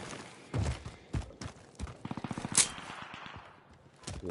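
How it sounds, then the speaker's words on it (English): Gunfire in a first-person shooter video game: scattered single shots early on, then a rapid burst of about eight shots near the middle, followed by a few faint, sparse reports. "Saw gunfire from them."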